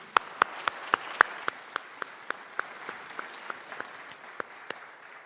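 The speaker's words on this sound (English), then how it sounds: "I think she deserves another round of applause." A small concert audience claps, sharp distinct claps in a loose rhythm that thins out, close-up and moderately loud over a quiet background.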